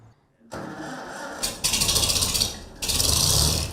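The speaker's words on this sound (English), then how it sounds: "This tractor is a 1954 International Super M torque amplifier." A 1954 International Super M tractor engine, torque amplifier model, starts up loud and close after a brief quiet moment, then settles into a steady rough idle with rasping surges.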